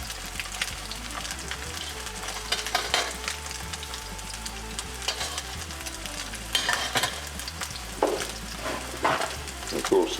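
Shark fish fillets frying in a hot pan give a steady, close crackling sizzle throughout, with occasional louder pops and scraping as the pieces are turned.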